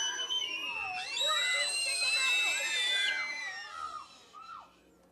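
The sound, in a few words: several children screaming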